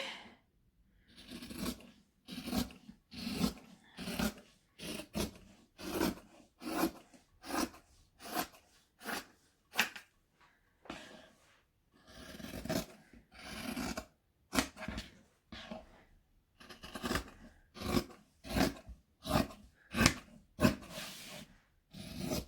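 Scissors snip through fabric while a travel bag pattern is being cut out, with a steady run of crisp, close cuts in quick rhythmic bursts and brief pauses between groups, no talking.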